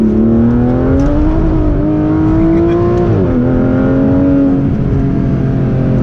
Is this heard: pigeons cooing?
no